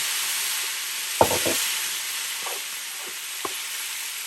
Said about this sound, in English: now I'm just going to hit it with a little bit of more white wine